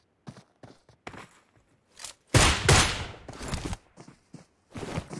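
Gunfire in a mobile shooter game: scattered sharp shots and clicks, then a dense loud burst of rapid fire in the middle, with a few more isolated shots trailing off afterward.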